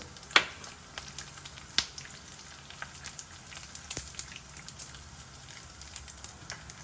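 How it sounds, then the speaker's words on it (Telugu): Lentils fry in a pan for a cucumber chutney, giving a faint, steady crackle with scattered sharp pops and a few light ticks, heard close but quietly with no voices. "బాగా ఎర్రగా వేగాలి పప్పులు"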